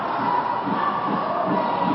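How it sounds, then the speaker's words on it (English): Australian fans cheering at a women's dodgeball world championship match against the USA in Cancun: a steady, dense roar of crowd voices and shouts filling the hall, continuous and moderately loud throughout. "the Australian fans are loving it, as you can probably hear in the background"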